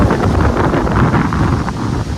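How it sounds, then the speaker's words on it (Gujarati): Loud, strong wind in Nagaland buffets the microphone in a constant heavy roar with gusty low rumbles and no other sounds clearly audible. "ખતરનાક પવન છે ને મિત્રો તમને અવાજ આવતો"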